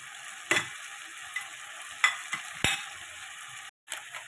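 Ground cumin, ginger and garlic paste with salt and turmeric stir-frying in oil, a faint soft sizzle broken by a few sharp scrapes and knocks of a spoon in the pan, then a brief cutoff.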